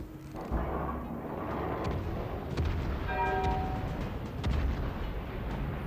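A warship's main guns fire in the World of Warships game, a heavy salvo of booming blasts over continuous low rumble, with a brief ringing metallic tone in the middle.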